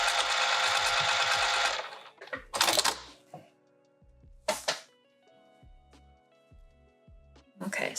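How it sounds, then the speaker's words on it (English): A domestic sewing machine stitches fabric at a seam on a wrap, running in a loud steady burst at the start and then in several short back-and-forth stitching runs separated by clicks and thunks. "we're just gonna sew right there to attach. Go back and forth a few times here"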